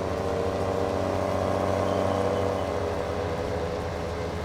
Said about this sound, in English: I do like the sound of this tractor. It sounds good.